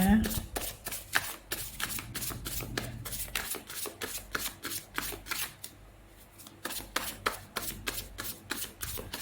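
Tarot cards are shuffled and handled close by in a rapid run of crisp riffling snaps with a brief pause midway, while someone talks over them.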